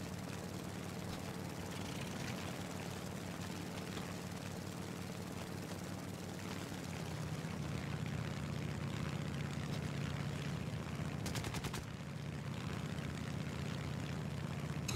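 Steady, droning propeller engine of an Aichi D3A1 dive bomber in War Thunder, a continuous mid-level hum without pause, with a brief higher rattle near the end and no voices.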